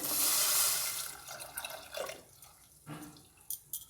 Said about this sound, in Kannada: ಇದಕ್ಕೆ ಇವಾಗ ನೀರು ಹಾಕೋಣ ನಾವು.